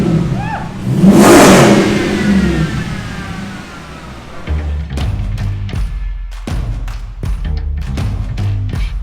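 An SRT Hemi-swapped Jeep engine roars up loudly in a single rising rev as the vehicle pulls away, then settles into a rough, rumbling idle broken by sharp revving bursts and thuds.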